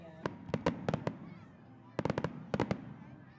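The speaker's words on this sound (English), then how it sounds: "brilliant fireworks lit up the sky." Fireworks exploding at a holiday tree lighting event, sharp cracking bursts in two quick clusters with crackle trailing between.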